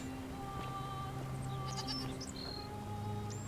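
A goat bleats in the video game The Forgotten City, a couple of wavering cries heard over a steady ambient game background with a faint hum.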